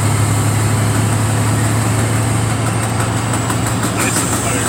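Tractor trailer diesel engine running steadily after a double-clutch shift into seventh gear, a loud constant low drone with a strong fundamental hum, with talk over it.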